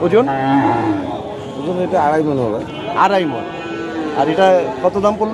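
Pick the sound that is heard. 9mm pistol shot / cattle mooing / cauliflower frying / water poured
cattle mooing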